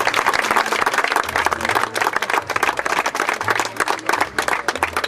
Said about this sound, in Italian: li ringraziamo con grande applauso